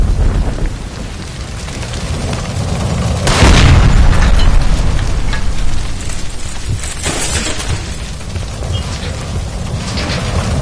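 A gas line explodes in the video game L.A. Noire, one heavy booming blast that roars then slowly decays into a rumbling wash with crackling debris, loud and close, following a steady background hiss.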